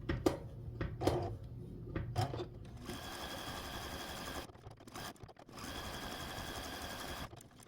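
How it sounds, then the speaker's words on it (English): A sewing machine stay-stitching ribbon appliqué on a quilt block runs in steady whirring bursts, with a few short clicks and handling noises before it starts and in brief pauses, close and moderately quiet. "I'm going to do a stay stitch at the top of this corner and just go down and around this little ribbon"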